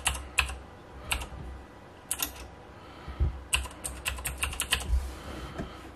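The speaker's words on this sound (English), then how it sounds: "So if I type that in," Typing on a computer keyboard, close clicky keystrokes in short bursts with pauses, the later run faster and more continuous.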